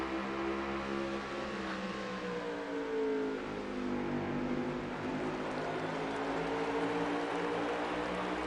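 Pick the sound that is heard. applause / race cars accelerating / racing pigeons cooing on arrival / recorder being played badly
race cars accelerating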